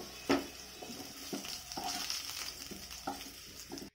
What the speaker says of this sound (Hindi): आलूटा भाजी गला